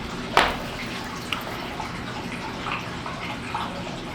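Water runs steadily from a tap nearby, a soft continuous hiss with a sharp splash or clatter near the start and a few faint drips, no voices.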